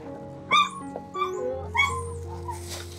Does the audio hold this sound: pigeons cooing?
no